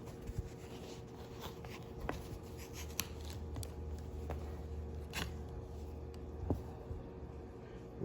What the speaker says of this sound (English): Now the cheesecloth, I'm going to cut a little piece.